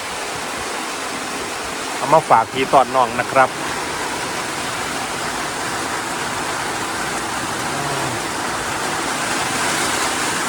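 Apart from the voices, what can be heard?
rain falling with water flowing by a stream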